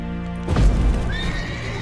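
Horse named Roach neighing in a video game: one loud, close whinny with a few hoof clops, following a steady background hum.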